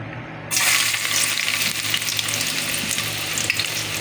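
Ginger sizzles as it drops into hot oil for a Bicol Express sauté, a sudden loud frying hiss kicking in after a half-second of quiet and holding steady with faint stirring scrapes.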